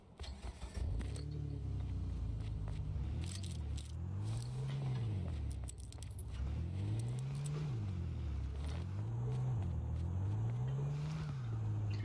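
Car engine in the video game H1Z1 King Of The Kill, revving up and down in repeated rising and falling surges, fairly close and steady, with light rattling and clicks over it.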